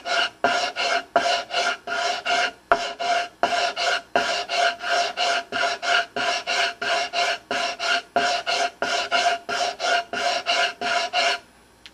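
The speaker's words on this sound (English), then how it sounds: "sand away the part of the butterfly that's proud" Hand sanding by hand in quick back-and-forth arcs over a proud wooden butterfly inlay repair, a steady rasping scrape repeated about thirty times in an even rhythm, close and loud with no talk.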